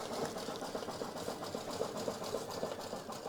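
An embroidery machine stitching tiny freestanding-lace turkey earrings runs with a steady, fast mechanical whir and rapid needle ticking, moderately faint and continuous with no talking.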